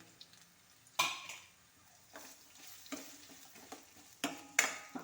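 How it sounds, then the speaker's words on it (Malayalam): Onions being sautéed and stirred in a pan for an egg curry, with soft scraping and intermittent spatula clatter over a low sizzle, a few sharper clanks standing out. "സവാള അങ്ങോട്ട് ഇട്ട് കൊടുക്കാം സവാള നല്ലതുപോലെ വഴറ്റിയെടുക്കണം"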